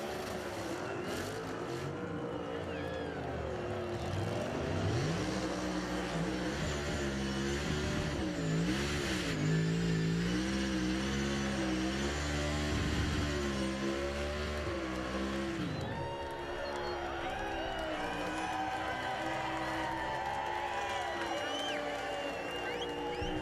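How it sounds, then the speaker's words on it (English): A NASCAR Cup Series race car does a burnout at the 2023 championship race, its engine roaring and revving loudly with tires screeching. Crowd noise swells underneath, and the roar stays sustained and close. "Flag's not going to survive this burnout"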